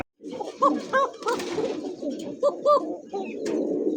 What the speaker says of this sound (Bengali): সারা কবুতর তো ভাই এই জন্য ছটফট করতেছে বেশি, সব কবুতরই দেখি আজকে ছটফট